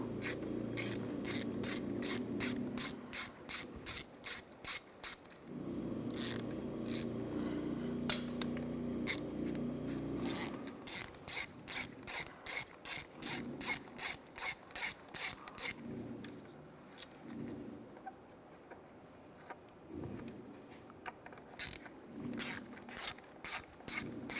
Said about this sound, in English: Use a T30 socket. There's 3 bolts around here. Take those out.